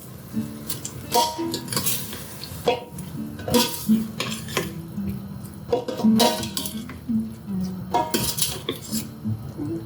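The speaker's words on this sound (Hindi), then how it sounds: "तो चलिए देखिए भुनने लगी है हमारी दाल। अब इसे चलाएंगे अच्छे से।" A metal spoon scrapes and clinks against a pot while whole urad dal is stirred and roasted, with irregular, close, rhythmic knocks and rattles and no talk.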